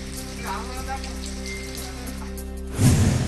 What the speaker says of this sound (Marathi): नांदेड जिल्ह्यात मुसळधार पाऊस, नदी नाल्यांना पूर